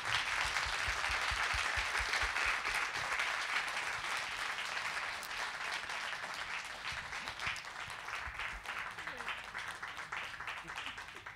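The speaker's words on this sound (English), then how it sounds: "give a round of applause to our panelists" An audience applauds panelists after an evening discussion on diversity in conservation, a sustained, even round of clapping from a room full of people that gradually thins as it goes on.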